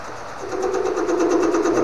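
Wood lathe spinning a walnut blank at about 550 RPM, a steady motor hum with a rhythmic whirring pulse that rises slightly after the start, close and without speech.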